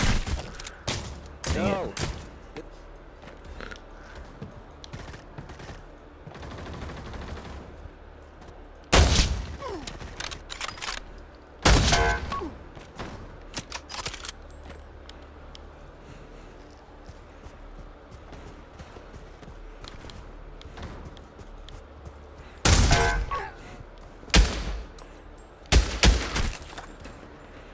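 Gunfire in the VR shooter Pavlov comes as scattered sharp, loud shots and short bursts spread across a long stretch, separated by quieter gaps of movement and ambience, with occasional brief talk.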